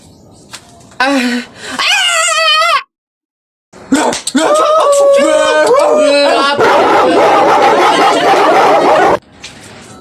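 A dog barks and yips loudly in several bursts, with high whining cries between them, mixed with people's lively chatter and shouting close by.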